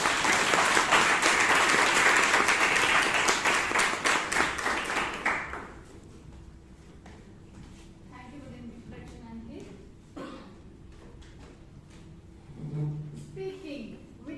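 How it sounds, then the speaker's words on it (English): Toastmasters meeting audience in Bangalore breaks into dense, lively applause for about five seconds. The applause then dies away into quieter room sounds with a few scattered taps and soft voices. "with a smile on your face and a round of applause, can you please welcome the Toastmaster"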